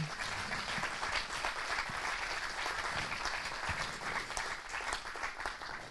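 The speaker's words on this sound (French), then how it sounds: "Je vous demanderai un petit applaudissement pour elles" An audience at a supply chain conference closing session applauds the organizers, a continuous, even wash of clapping heard from a distance and at low volume, fading slightly at the end.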